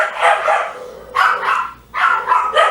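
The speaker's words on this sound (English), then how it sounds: "My dogs are horrible." Dogs bark indoors during loom knitting of a can cozy, three loud bursts of rough barking with brief pauses between them, no talking over them.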